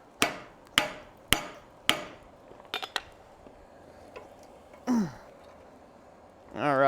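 A hammer strikes hot metal on an anvil while a decorative hacksaw is forged, giving four sharp, ringing blows at an even pace, followed by a few lighter taps and clanks of tools being handled.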